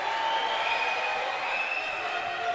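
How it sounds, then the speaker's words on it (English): Crowd murmuring and reacting in the background at a mixed-team netball match between ADF and Tasmania, a steady, fairly quiet wash of voices with faint whistle-like tones running throughout. "I'm certainly hearing some crowd in the background for this"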